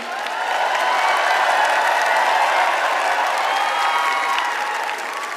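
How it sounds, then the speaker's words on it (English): A large crowd applauds steadily at the Miss Universe 2018 preliminary evening gown competition, a dense wash of clapping that holds loud and even throughout. "can we please have a round of applause"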